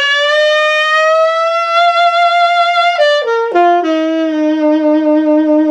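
A saxophone, played with a loose jaw, sounds a bright sustained note that holds, then scoops down through a quick wobbling drop and settles on a lower held tone, close and solo.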